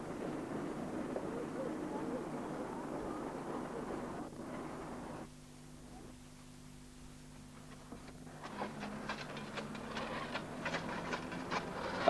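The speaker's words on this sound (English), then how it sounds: "Leaving Castlecroft, a train hauled by the RSH No. 1 passes a new visitor to the East Lancs" A steam train hauled by the locomotive RSH No. 1 pulls out of Castlecroft on the East Lancs railway, heard faint and distant as a soft rumble with a steady tone, then rising chuffs.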